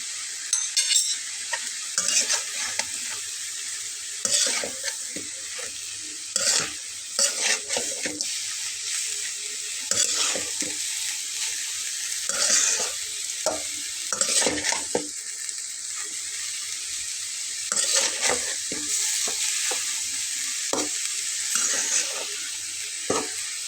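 Snake gourd with garam masala being stirred and fried in a pan, soft sizzling under repeated scraping strokes of a spatula at an irregular rhythm, close and moderately loud with no talking.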